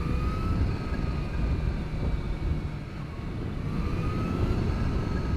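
A supercharged Kawasaki H2 SX SE motorcycle backs off the throttle at speed, a loud rushing whine and engine drone under heavy wind noise, with faint rising and falling tones and no talking.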